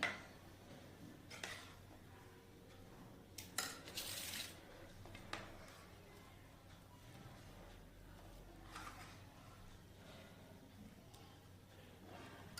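Steel dishes and utensils clink and scrape while dal tadka is served, with a few sharp clanks, a bright metallic clatter near the start and softer stirring and tapping afterward, close and fairly quiet.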